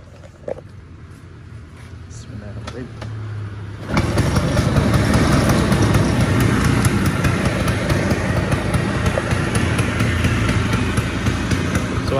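A 1977 Vespa Sprint scooter fitted with a DGM exhaust is started after a few seconds of quiet, then settles into a loud, steady, close-up two-stroke idle.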